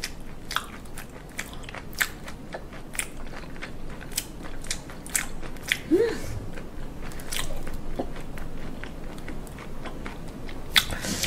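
Someone chews live fish up close in a wet, rubbery way, with repeated sharp crunchy bites and smacking at an irregular rhythm, and a brief vocal sound partway through.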